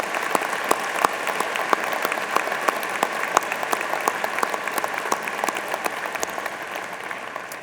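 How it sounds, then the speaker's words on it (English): Applause from the audience at Butler University's spring commencement ceremony, steady and sustained clapping from a large crowd with sharp individual claps standing out, holding at an even level throughout. "Let's take a moment to thank them with a round of applause for the love, support, and sacrifice"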